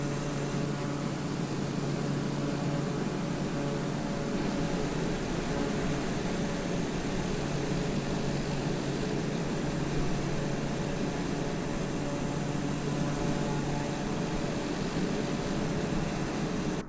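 A steady, unbroken turboprop drone with a faint high whine from a Beechcraft T-6B/C Texan II climbing in Microsoft Flight Simulator, holding an even level throughout with no talk.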